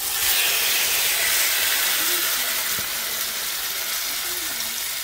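Meat dropped into a hot pan on low heat gives a steady, close broadband sizzle and hiss that runs the whole time, even and fairly loud, with no voices.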